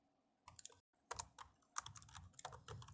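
Keys clatter on a computer keyboard while someone types a document in MS Word, with quick irregular bursts of clicks and a brief pause early on, close and clear with no talk.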